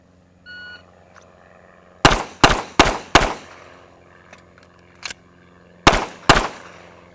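Pistol shots from a 50-round training drill: four quick sharp reports in a tight cluster, a lone shot, then two more, loud and close with short echoing tails.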